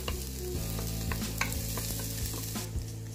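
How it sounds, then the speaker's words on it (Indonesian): Garlic and shallots stir-fried in hot oil for tofu filling, giving a steady, loud sizzle with the scrape and clatter of stirring throughout, close up and with no talking. "Lalu tumis bawang putih dan bawang merah sampai wangi dan harum."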